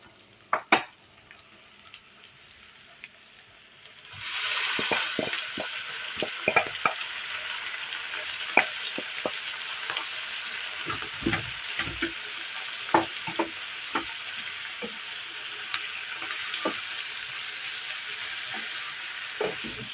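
Marinated pork hits a hot pan and bursts into steady frying and sizzling, with scattered clinks and scrapes of a utensil stirring the meat throughout; no voices.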